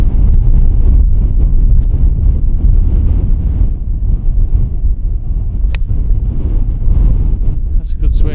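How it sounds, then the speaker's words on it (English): Strong wind on a golf course, with gusts up to 45 mph roaring steadily and loudly across the microphone throughout, with a faint voice underneath. "wind's coming off that left now, and it's down that right hand side"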